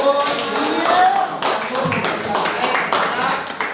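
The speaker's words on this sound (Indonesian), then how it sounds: "tepuk tangan dulu itu" Students in a classroom clapping for a presenting group, a short burst of hand claps with voices mixed in.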